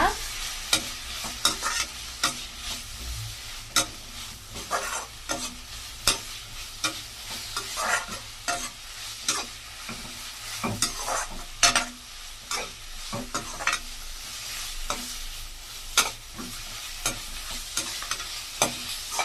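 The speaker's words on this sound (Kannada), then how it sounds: "ಈಗ ಕಾಯಿ ತುರಿ ಸೇರ್ಸೋಣ. ಚೆನ್ನಾಗಿ ಮಿಕ್ಸ್ ಮಾಡ್ಕೊಳ್ಳೋಣ." Grated coconut being stirred into mango chitranna in a pan, a spoon scraping and tapping steadily against the metal over a soft sizzle, close and with no voices.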